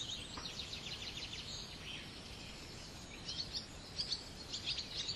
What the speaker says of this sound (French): aucun bruit, si ce ne sont les oiseaux, le chant des oiseaux